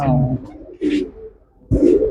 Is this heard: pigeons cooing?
yes